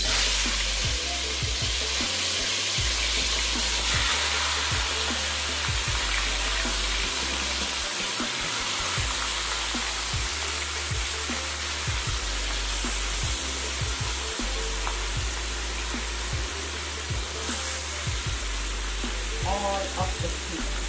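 Seasoned oxtail cooks in a pot for Jamaican brown stew, a steady soft sizzle and frying hiss with occasional stirring clinks and light knocks, moderately close.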